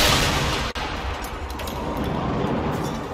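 Heavy weapon fire from a party cannon in Generation Zero, a sustained rumbling barrage of booms and crackling blasts with a brief gap near the start, loud and dense throughout.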